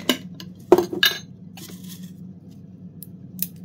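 A few crisp, dry snaps of dehydrated cabbage crackle up close, with a quiet pause between the first pair and a last sharp crack near the end.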